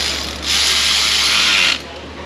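A ratchet tightens bolts on the exhaust of a 2007 GMC Sierra 5.3 with a cut-off catalytic converter, one close, loud burst of rapid clicking lasting just over a second against steady background noise.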